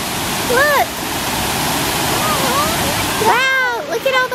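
A waterfall roars as a constant close rush of falling water. Excited children's voices break in with short exclamations near the start and again toward the end.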